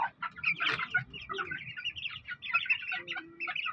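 Young roosters (stags) and chickens cluck and chatter in soft overlapping bursts, with one brief louder squawk, a close, busy flock sound.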